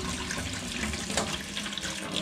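Hot water streaming from a boat's sink tap with a new water pump, a steady, powerful rush of running water close by with no talking.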